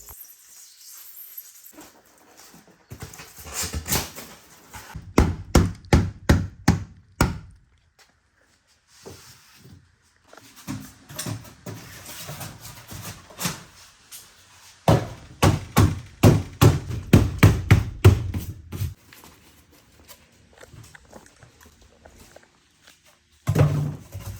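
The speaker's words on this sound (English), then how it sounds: "this is us cutting the pieces of it to fit in the aluminum frame inside the contractor cap" Pieces of foam insulation sheet are cut and fitted into the aluminum frame inside a contractor cap being turned into a camper, heard as bursts of rapid, sharp knocks and scraping strokes separated by quieter pauses, close to the microphone.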